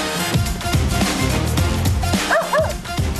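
Four dogs being put into harnesses bark, yip and whimper excitedly in rapid overlapping bursts, close and loud, with busy background noise throughout.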